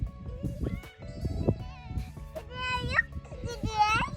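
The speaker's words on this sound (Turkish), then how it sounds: "Hadi gidip biraz keçilere bakalım." Goats bleat in wavering cries in a village, a few loud and close, over children's voices and chatter.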